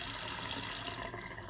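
Water running freely from a newly installed Moen bathroom faucet into an open sink drain, a short soft steady splash and hiss, close and fairly quiet, with no voices.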